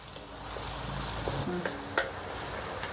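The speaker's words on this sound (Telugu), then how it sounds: "ఇప్పుడు ఈ ఉల్లిపాయల్ని బ్రౌన్ కలర్ వచ్చేంత వరకు బాగా ఫ్రై చేసుకుందాం." Onions frying with green chilies and curry leaves in a pan for Andhra-style country chicken curry, a steady close sizzle with a few scraping stirs and light clinks, no talking.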